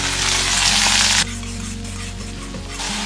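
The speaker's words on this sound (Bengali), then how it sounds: "প্রথমে আদা আর রসুনটা অ্যাড করছি, অ্যাড করে দিচ্ছি স্প্রিং অনিয়ন" Ginger, garlic and spring onion fry in a pan for chicken Manchurian, a loud close hiss that suddenly drops to a softer sizzle with light stirring knocks.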